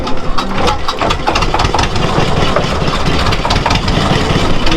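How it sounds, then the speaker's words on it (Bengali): A boat engine on a Sundarbans river in a village area fires up and settles into a steady, loud mechanical chugging that runs continuously throughout, with broadband rattle and wind-like noise. "engine start"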